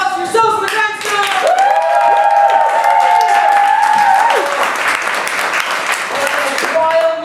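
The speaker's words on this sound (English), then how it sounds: "Round of applause for yourselves for the Grindstone!" An improv show audience breaks into loud, sustained applause close by, with whoops and cheering voices rising over the clapping and then fading.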